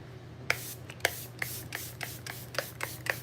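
Repeated short hisses of makeup setting spray being pumped from a bottle, about eight quick bursts in a loose rhythm, close and fairly quiet over a low background hum.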